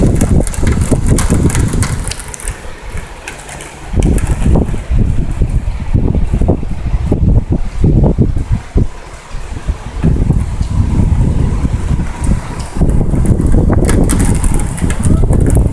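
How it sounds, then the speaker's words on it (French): Strong gusting wind rising ahead of a violent thunderstorm in Amiens, France, roaring and buffeting loudly against the microphone in surging waves, with a brief lull early on and no talk. "le vent qui se lève, ça me plaît pas trop"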